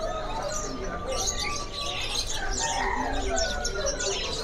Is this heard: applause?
no